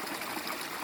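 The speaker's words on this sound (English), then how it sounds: "listening to a bubbling stream in a beautiful place" A bubbling Himalayan mountain stream runs close by, a steady broadband wash of trickling and gurgling water with no voices.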